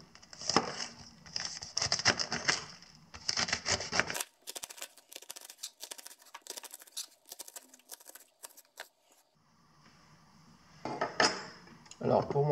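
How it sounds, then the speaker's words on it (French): Bursts of rapid knife chopping of cabbage on a board, then crisp scraping and rustling of cut cabbage leaves, with another chopping burst at the end. "on coupe notre chou"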